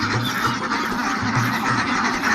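A flock of ducks quacks continuously at a duck farm during morning egg collection, with dense overlapping calls close by and no talk.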